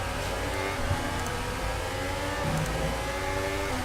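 Audi race car engine in the F1 2019 video game, a steady loud drone with sustained tonal whine and slight pitch shifts throughout, close and continuous with no talk.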